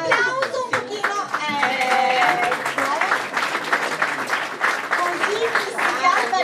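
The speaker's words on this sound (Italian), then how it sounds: "Applauso un pochino!" Lively audience applause for Sara Iannone at an Italian legal award ceremony, continuous clapping with crowd voices and chatter mixed throughout.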